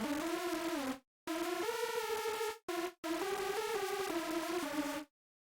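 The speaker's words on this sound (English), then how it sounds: "very detuned supersaw" Very detuned supersaw synth lead for UK hardcore, a bright buzzy stack of saw voices playing a short stepped melody in several phrases separated by brief gaps, loud and clean with no talk.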